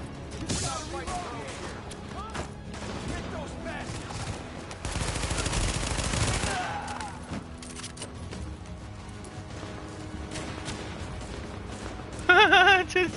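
Automatic gunfire rattles in The Division on PS4 as a teammate sprays bullets, with sustained loud bursts and a dense stretch of fire in the middle while voices talk over it.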